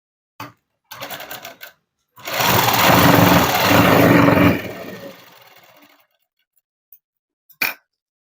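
A sewing machine runs steadily for about two and a half seconds stitching folded fabric for a child's dress, then slows and trails off, with brief clatter before and a few isolated clicks afterward.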